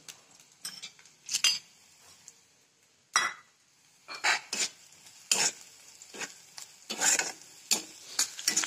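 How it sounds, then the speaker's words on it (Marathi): Onions are roasted in a pan for chakli-style snack cooking. A spatula scrapes and stirs in sharp, irregular bursts over a soft, steady sizzle, with brief metallic clinks and no voices. "आता हे कांदे चांगले भाजायले मी"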